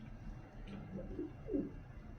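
A racing pigeon in hand gives soft, low cooing calls, with a couple of faint murmuring coos against a quiet background.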